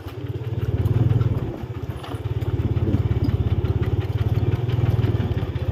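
A farm tractor engine runs steadily close by with a rapid, even low thumping beat, dipping briefly once before carrying on without talk.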